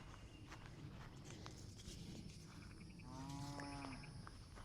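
Cows shuffle and step across a farm field in quiet, scattered footfalls. Partway through, a single low moo rises and fades.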